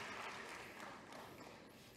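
Faint, thin applause from a church congregation, a scattered patter of claps that holds weakly and fades slightly over two seconds, heard from a distance.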